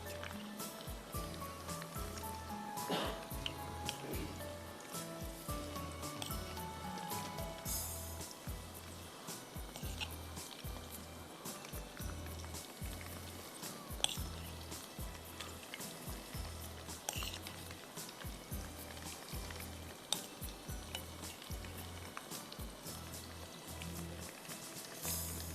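Chicken frying undisturbed in a pan, giving a steady, faint, rain-like sizzle with small pops throughout and no talking.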